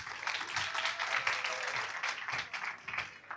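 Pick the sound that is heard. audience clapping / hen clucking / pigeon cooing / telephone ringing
audience clapping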